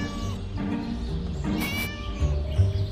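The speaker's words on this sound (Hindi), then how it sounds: "ये बिल्ली की आवाज़ तो सभी जगह से आ रही है" A cat in the video game Scary Teacher 3D gives a clear, drawn-out meow over steady background game music.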